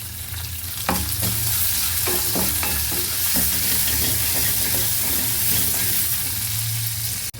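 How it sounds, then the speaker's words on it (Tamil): Onions fry in a pan with a pinch of rock salt, giving a continuous close sizzle broken by repeated scraping and clinking of a stirring utensil. "இந்த வெங்காயம் வதங்குற ஸ்டேஜில் நம்ம கொஞ்சோண்டு கல் உப்பு சேர்த்துக்கிறோம்"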